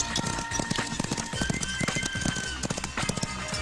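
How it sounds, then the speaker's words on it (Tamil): A horse trots off at a quick pace in a comic rural scene, its hoof clip-clops coming in an irregular rapid patter over a busy background of voices and music. "என்னடா ஜோடியை கூட்டு போன குதிரை எம்டியா வருது?"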